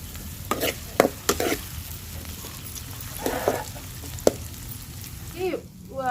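Onions, green chillies and tempering spices fry in a pan for a potato fry. A soft, even sizzle is punctuated by sharp clinks and scrapes from a stirring spoon.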